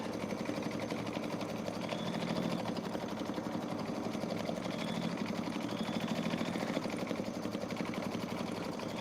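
An embroidery machine stitches out a quilted design on clear blue tiles, giving a steady, fast mechanical whirring and clatter that runs continuously without talk.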